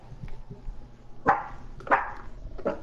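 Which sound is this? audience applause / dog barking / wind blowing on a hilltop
dog barking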